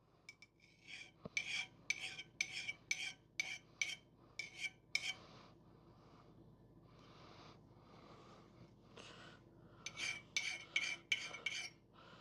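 A vintage axe edge is sharpened by hand with a file or stone, heard as bursts of rhythmic back-and-forth rasping strokes, close and crisp, separated by a quieter pause in the middle.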